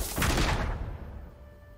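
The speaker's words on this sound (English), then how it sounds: "The saddest rocket." A rocket fires in Legends of Runeterra, a loud burst with a booming low rumble at the start that quickly decays into a fading, ringing tail, with no one speaking.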